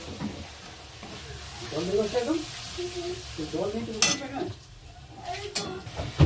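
Spice masala with cumin and coriander powder sautés in a pan, a low sizzle with occasional utensil clinks under a person talking nearby.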